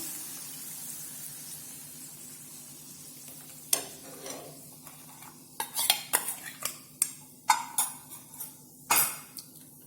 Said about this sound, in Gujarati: તો હવે આપણે જે ચણાના લોટની મસાલા સાથે મિક્સ કરી અને રાખ્યો છે તેને આપણે મરચાં સાથે મિક્સ કરીશું